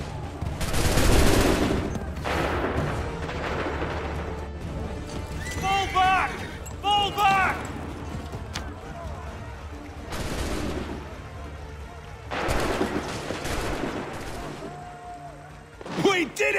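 A battle in Assassin's Creed 3 brings musket volleys and scattered gunfire cracks in bursts, with shouted voices, battle noise and sounds of horses between the shots.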